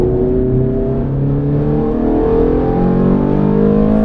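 Ferrari sports car on the Mondello Park circuit, its engine rising steadily in pitch as the throttle is squeezed wide open, a loud continuous in-car roar with no talk over it.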